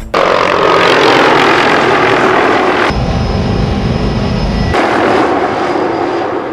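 A helicopter's steady, loud engine and rotor roar fills the whole span continuously, with a brief shift in tone midway, and no talking over it.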